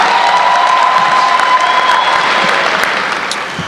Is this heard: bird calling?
no